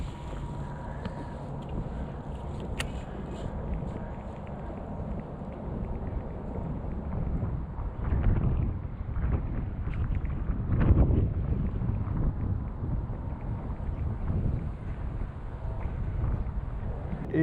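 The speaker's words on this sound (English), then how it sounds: "There's a wind going. I'm sure you guys can hear it." Steady, frigid wind at a fishing pond rumbles and buffets against the microphone throughout, with a few louder gusts in the middle and faint water movement underneath.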